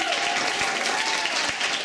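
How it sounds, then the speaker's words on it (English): Audience applause for a visiting violinist at a dance performance, a steady spread of clapping with a faint held tone beneath it. "let's give Srinath a round of applause"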